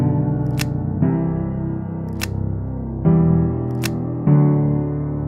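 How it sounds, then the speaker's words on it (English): Gun cocking sound effect built from random household objects: four sharp mechanical clicks spaced about a second apart, each layered over a ringing, tonal body and a long reverb tail, loud and close. "Here's the sound of the gun being cocked."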